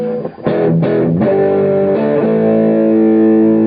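A 1970s electric guitar's chords strummed and left ringing, clean and dry with no echo or reverb tail, a few quick changes then a long sustained chord.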